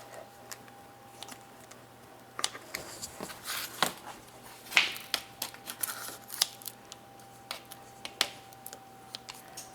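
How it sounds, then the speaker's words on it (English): Clean kitchen scissors snip slits into food for a Halloween mummy dish, a series of faint, crisp clicks and snips at an uneven pace over a low steady hum. "a pair of clean kitchen scissors work wonderfully for this"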